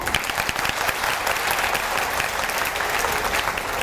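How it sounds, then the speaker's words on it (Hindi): A crowd applauding, dense steady clapping that carries on without a break. "तो हमने जरा जबरदस्त और जोशीली ताली बजा दी।"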